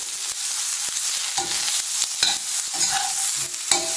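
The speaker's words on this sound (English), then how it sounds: "so just sauteing it for an extra taste" Steady sizzling of leaves sauteing in a hot pan, with intermittent scraping and stirring clicks from a utensil throughout.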